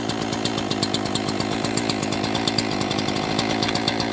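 An ECHO CS-4910 or CS-590 chainsaw idles just after starting, its two-stroke engine running loud and close with a steady, fast, even putter and no speech.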